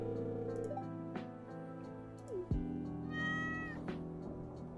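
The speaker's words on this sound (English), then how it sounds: "Meow to you too." Meows from a cat in the Stardew Valley farming game ring out over soft background game music, a few short, clear calls spread across the stretch with a brief rising chirp midway.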